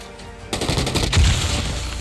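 Assault rifle fire in a shooter video game: a sudden loud burst of rapid gunshots that starts after a quiet half second and keeps rattling to the end, with no talking.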